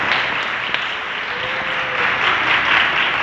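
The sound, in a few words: church congregation applause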